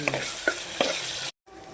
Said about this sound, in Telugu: దానిలోకి పసుపు, అల్లం వెల్లుల్లిపాయ పేస్ట్ వేసుకొని చక్కగా ఎర్రగా వేయించుకోవాలి.